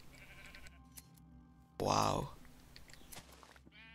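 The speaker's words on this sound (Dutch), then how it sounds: "Schapen." Minecraft sheep bleat in the Tekkit Lite modpack, one loud bleat in the middle, with someone speaking briefly under other game sounds.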